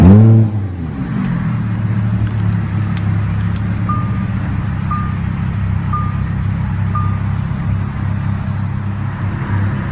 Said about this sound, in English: with your foot on the brake, push the start button located on the center console to start